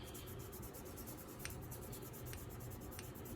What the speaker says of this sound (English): we're just going to get all that thermal paste off here